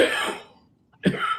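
A person coughs twice close by: a long, breathy cough, a short pause, then a second harsh cough.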